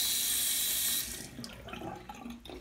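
Hotel bathroom sink faucet at a Hampton Inn runs with a steady, loud rush of water that stops about a second in, followed by faint handling clatter and light room noise.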